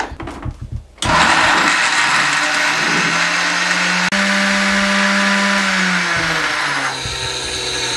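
A blender starts abruptly and grinds piña colada ingredients with ice, a loud steady motor whine with rattling contents that shifts pitch slightly as the mix smooths out.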